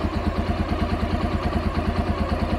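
A Tekken 300 Fuego motorcycle idles after a remote start, its engine giving a close, loud and even rhythmic thumping with a slight clatter and no talk.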